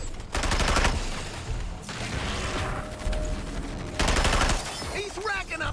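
Rapid automatic gunfire bursts from the video game Suicide Squad, loud and close, with two long sustained volleys separated by shorter shots and game effects.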